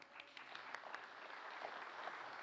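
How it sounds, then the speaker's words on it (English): Church congregation clapping during a worship service, a faint, distant, steady patter of applause heard throughout. "Y'all can clap for him. He did a good job."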